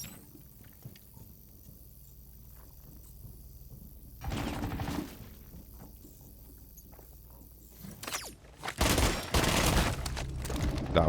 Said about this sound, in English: I accidentally just sprayed him with the SMG 11